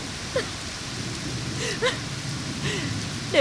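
Steady rain falls outdoors in a dramatic street scene, a soft continuous patter with a few brief louder splashes, no speech over it.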